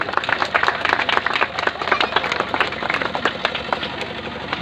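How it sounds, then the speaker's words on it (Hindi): An audience at an outdoor honors ceremony on a hostel ground claps rhythmically and loudly, many hands beating in a fast, sustained pattern close by. "जोर से तालियों से स्वागत करें श्री राहुल चौधरी जी का"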